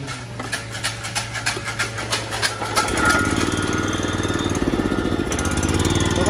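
A new Yanmar OHV tiller engine running, likely warming up after starting, with a steady, smooth, close-up chugging putter that grows louder and denser partway through and then holds an even idle.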